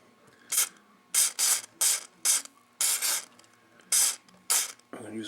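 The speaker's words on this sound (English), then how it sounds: "I'm going to use a fair bit of contact cleaner with this one because this switch is kind of big." Contact cleaner sprayed into the switch of a Realistic SA-101 stereo receiver: about eight short, sharp hissing bursts, close and loud, separated by brief pauses, with a faint rustle at the end.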